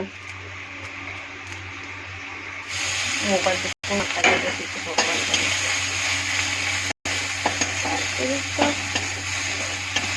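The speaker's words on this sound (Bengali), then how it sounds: "আদাটা একটু ভাজা ভাজা করব।" Ginger sizzling and frying in a pan over panch phoron for a vegetarian dish, a steady close hiss with crackles and occasional stirring scrapes, no talk.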